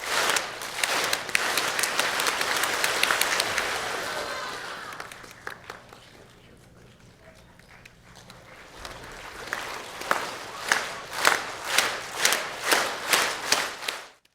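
Children clapping together as a group during a music lesson, following the rhythm and loudness levels being directed. Dense applause-like clapping opens the clip, fades to a quiet stretch, then returns as steady, evenly spaced rhythmic claps that grow louder.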